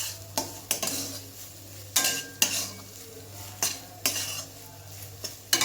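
Sugar being worked into a mashed pointed gourd and ridge gourd peel bhorta, with a series of sharp scraping and tapping strokes against the bowl at an irregular rhythm, close and fairly quiet over a steady low hum.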